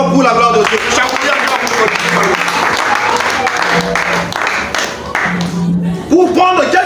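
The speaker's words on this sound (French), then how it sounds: "On acclame très fort pour la gloire de Dieu." A church congregation applauds loudly for the glory of God during a service, with dense, sustained clapping that fills the space and voices heard over and between the applause.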